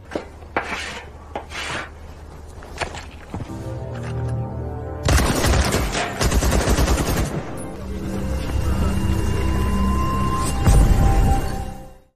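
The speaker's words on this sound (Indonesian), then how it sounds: "Ia pun mengajak Zaitsev untuk menguji senjata miliknya di belakang pabrik tersebut." Test-firing of a prototype rifle at a factory range in a film scene, heard as a few sharp cracks early on, then a dense burst of rapid automatic gunfire building loudly through the rest, mixed with film score.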